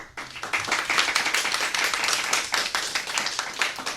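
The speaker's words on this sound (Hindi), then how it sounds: "एक बार जोरदार तालियां बजाएं हमारे इस नन्हे कलाकार के लिए।" Enthusiastic applause for a young child singer at a school program, dense clapping from a crowd sustained steadily throughout at a fairly loud, close level.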